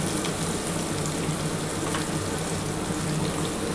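Steady, loud sizzling of paneer frying in a hot pan, a continuous crackling hiss throughout with no talking.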